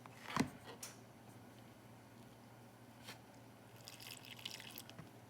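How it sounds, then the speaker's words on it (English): Half a cup of water trickles and drips into gingerbread dough in a mixing bowl, a brief splash at the start followed by faint scattered drips in a quiet kitchen. "now I'm gonna start adding in the half a cup of water"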